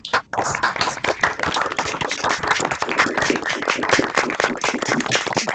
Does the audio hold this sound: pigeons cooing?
no